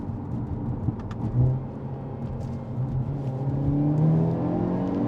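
A Hyundai Elantra N engine hums steadily, then a rising whir builds as the turbo spools up, swelling louder toward the end with no voices.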